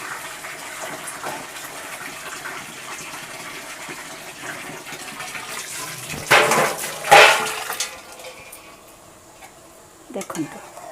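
Hot water poured into a pan of rohu mustard fish curry over a gas flame, heard as two brief splashing gushes over a low steady background, followed by a short faint clatter.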